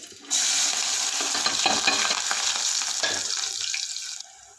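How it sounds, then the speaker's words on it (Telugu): Chopped onions and curry leaves dropped into hot oil, erupting into a loud, steady hissing sizzle that stays strong for several seconds before easing off, with no talk over it. "ఇదిగోండి ఉల్లిపాయలతో పాటుగా కరివేపాకు, ఇవి 2 కూడా చక్కగా మగ్గనివ్వాలండి."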